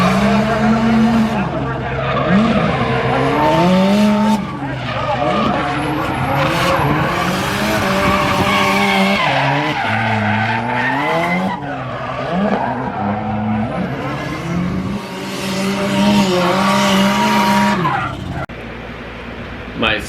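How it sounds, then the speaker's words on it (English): A drift car slides through a competition qualifying run, its tires squealing and skidding in long sustained bursts over a loud, revving engine, continuous and close for the whole stretch. "it was tough for me to keep the car in drift"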